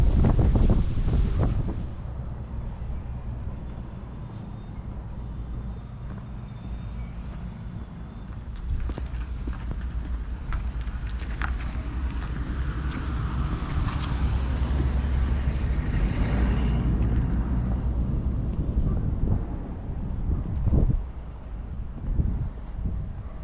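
Strong wind gusts roar and buffet the microphone with a deep, continuous rumble that swells and eases over the length, as a dust cloud passes.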